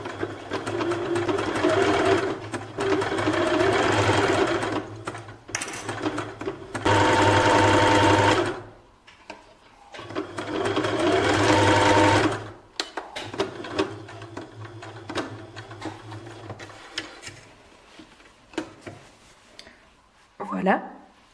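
A sewing machine stitches a fabric seam for a t-shirt or dress in bursts of fast, steady whirring runs, stopping and starting several times, close and clear, with someone talking in between.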